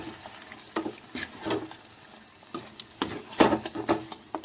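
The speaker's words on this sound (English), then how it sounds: "this I'm going to mix it thoroughly" Spoon stirring chicken rezala with salt in a cooking pan, close and fairly quiet, with irregular scrapes and clinks against the metal over a faint sizzle.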